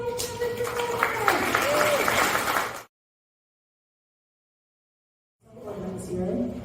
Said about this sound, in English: let's get started right now by clapping wildly